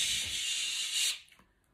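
A spray bottle used in a skin-care routine gives one steady, soft hiss lasting about a second before cutting off into quiet.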